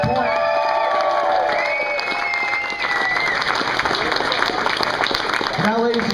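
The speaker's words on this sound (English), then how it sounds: "And once again, big round of applause for everybody here at Southpoint." A large audience at a professional bowling championship claps and cheers in a sustained, dense wave of applause, while a voice speaks over it through a PA.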